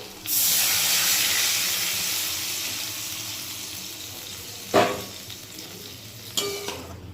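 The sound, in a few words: paneer soaking water poured into frying masala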